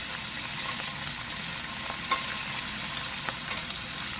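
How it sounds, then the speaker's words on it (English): Meat sizzling and frying steadily in a hot pan just after being flipped, a dense continuous crackle with a few sharper pops, close and fairly loud with no voices. "I'll just flip the meat into the other side."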